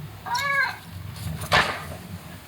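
A cat meows once, a clear rising and falling call close by, followed by a brief bright noisy burst, with a low steady hum underneath.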